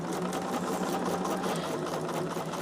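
A sewing machine stitching fabric hearts together for a quilt heart block, running at a constant fast whir with a dense mechanical rattle, close and continuous, with no pauses and no talk.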